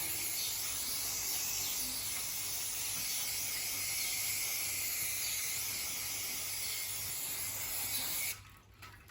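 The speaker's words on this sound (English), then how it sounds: "we're going to just use our brake clean or something similar, so give it a quick clean up here" Brake cleaner sprays onto a Suzuki Swift engine around the oil filter housing, a loud steady aerosol hiss running unbroken for about eight seconds before cutting off abruptly.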